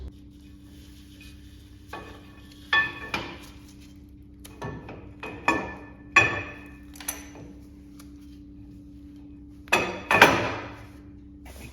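Axles being slid into an old truck's housing during a drum to 16-inch disc brake conversion: scattered metallic clinks, scrapes and knocks close by over a steady low hum, with no talking.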